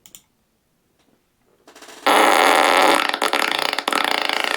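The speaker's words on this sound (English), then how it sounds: "It's a big sloppy fart" A big sloppy fart: near silence with tiny pops, then a swelling sputter bursting into a loud, wet, rattling blast that flutters and crackles for over two seconds.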